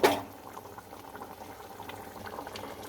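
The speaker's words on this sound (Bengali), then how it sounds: "এবার আমার ডালটা ফুটে গেছে" Chana dal (Bengal gram) thickened with sugar and garam masala bubbling in a pot, a soft steady simmer of small pops and blips heard close, after a brief louder knock at the start.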